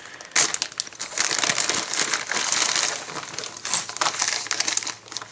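Ziploc bags of Lego pieces crinkle and rustle as they are handled up close, a busy stream of crisp plastic crackling with brief pauses.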